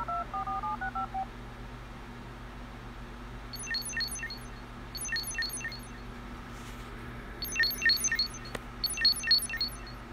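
A phone in the South Park Phone Destroyer video game dials a FaceTime call, with a short tone melody and then clusters of quick dialing beeps and chimes repeating at moderate volume over a faint background hum.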